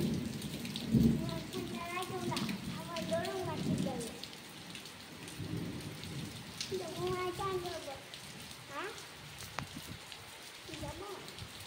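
Rain falls steadily through a wet afternoon, a continuous hiss with soft patter, while voices talk intermittently over it.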